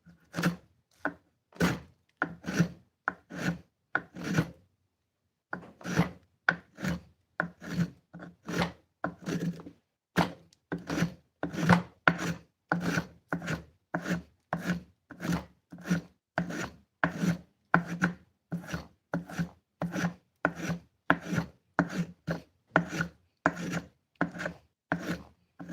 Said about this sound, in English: We're going to have to get on that sander.